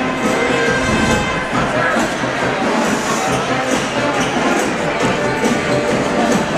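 A dense roar of crowd noise fills a high school varsity boys basketball game, constant and loud with chatter and movement throughout.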